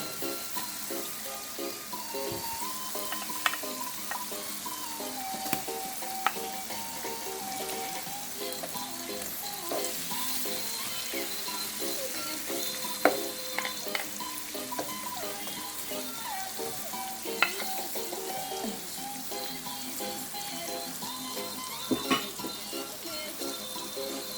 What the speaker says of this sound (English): I'm going to add my onions.